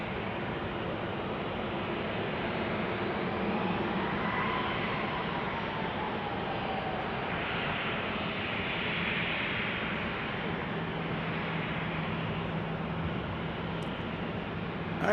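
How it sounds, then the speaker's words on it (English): A Boeing 737 airliner taxis at Salt Lake City International Airport, a steady broadband jet rumble and hiss that holds for the whole stretch with no break and no talk. "we got a 737 taxiing in here, and then an A220 behind it."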